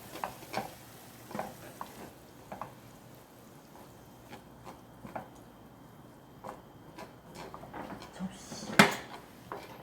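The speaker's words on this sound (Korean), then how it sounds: "너무 많이 안 볶아도 되니까 이 정도 숨만 살짝 죽일 정도 이 정도로 하겠습니다" Kale stir-fried briefly in a pan, soft sizzling under repeated scraping and clinking of a utensil against the pan, with one sharper clatter near the end.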